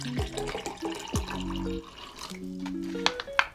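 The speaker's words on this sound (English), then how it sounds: "let's go ahead and just open that water bottle for you and pour that water in" Bottled water poured out splashes and glugs in irregular gurgles, close and moderately loud, with a few sharper drips near the end.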